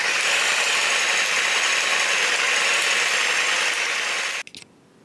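Spray paint can, Oxford paints brand, shaken steadily, giving a dense, continuous rattling hiss up close for about four seconds before stopping abruptly.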